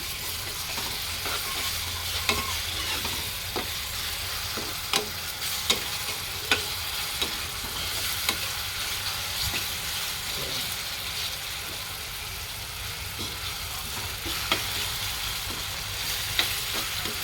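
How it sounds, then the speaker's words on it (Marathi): A ginger, garlic, green chili and coriander paste sautés in hot oil for a home-style chicken curry, with a steady sizzle and sharp spatula scrapes and taps scattered throughout. "हिरवी मिरची कोथिंबीरची पेस्ट ती चांगली परतून घेऊया"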